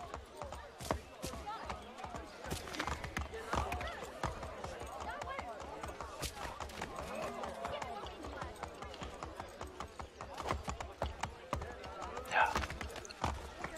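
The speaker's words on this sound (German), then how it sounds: "Das mit dem Pferdereiten, das haben sie ja so viel besser hinbekommen." Horse hooves clip-clop steadily while riding in Assassin's Creed 3, a continuous patter of quick thuds running the whole stretch under German voice-over talk and game ambience.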